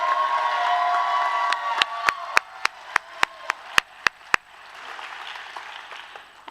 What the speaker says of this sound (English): Let's give another big round of applause for all 12 of our students of the year.